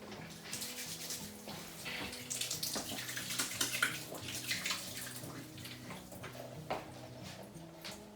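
Water runs from a tap while hands are washed, a steady splashing stream with uneven gurgles and drips, close by in a kitchen.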